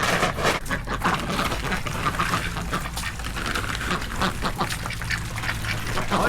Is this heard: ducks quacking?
yes